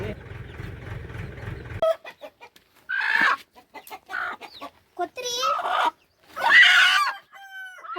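Chickens cluck and squawk in short, loud bursts, close by, after a stretch of low rumbling noise; a few higher calls stand out. They are being fed termites from a log.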